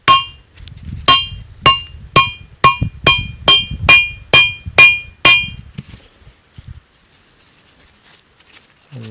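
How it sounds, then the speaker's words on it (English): Eleven sharp, evenly spaced hammer blows on a paper-wrapped mineral sample, loud and close, followed by a few seconds of near silence and a faint rustle. "Give it a bash with a decent hammer."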